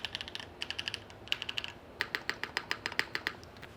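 Crisp, even keystrokes on an FBTKL mechanical keyboard fitted with Pink Robin switches, a top-mount build, typed in quick steady bursts close up with short pauses between runs, no voices.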